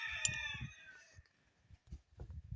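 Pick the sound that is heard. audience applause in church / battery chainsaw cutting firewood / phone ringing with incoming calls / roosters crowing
roosters crowing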